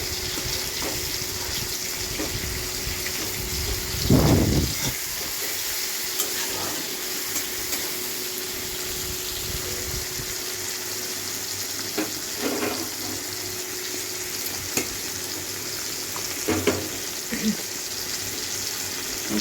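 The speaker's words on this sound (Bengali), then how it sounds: "কড়াইতে দিয়ে দিয়েছি টমেটোটা পেঁয়াজটা ভালো করে একটু ভাজা হবে সেই জন্য দিয়েছি" Tomato and onion frying in a wok, a steady low sizzle running throughout with a few louder stirring clatters and scrapes, close by and with no talking.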